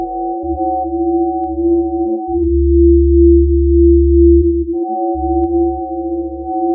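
Steady electronic sine tones hold several pitches at once, layered high and low, with a deep hum swelling in the middle before the higher tones return.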